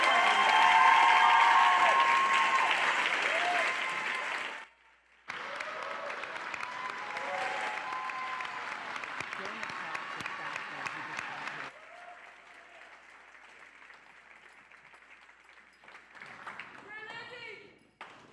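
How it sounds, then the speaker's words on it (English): Applause at an 8th grade graduation ceremony, loud at first, then cutting out briefly and resuming at a steady level before thinning out, with crowd voices and a few sharp pings in the hall. "now give them that huge round of applause"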